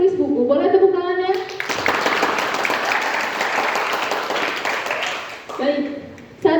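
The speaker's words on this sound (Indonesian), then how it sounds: "Boleh tepuk tangannya?" Audience at a book seminar breaking into steady clapping applause for several seconds, with a speaker's voice just before and after it.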